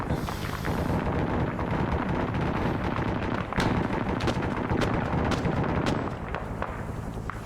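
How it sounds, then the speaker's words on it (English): Automatic gunfire from a hidden LMG in an Arma Vietnam operation, firing at aircraft, in dense rapid bursts over a constant loud battle din with heavy booming shots, no talk. "the MG's shooting at the frickin' aircraft"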